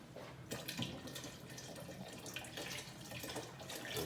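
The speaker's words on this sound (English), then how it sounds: "So I am actually going to put in 3/4 of a can of the tomatoes of water." Tap water runs from a faucet into an empty tomato can, a steady close rushing stream that slightly changes tone as the can fills, with no voices.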